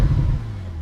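Engine of a Porsche 911 Turbo revving up close, a deep low rumble that swells briefly and then settles into a steady lower drone.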